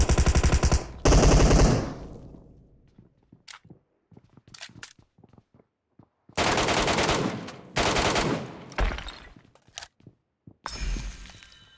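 Bursts of MK14 rifle gunfire from the PUBG Mobile battle royale game, several loud rapid volleys separated by gaps with scattered single shots and impacts, with no talking.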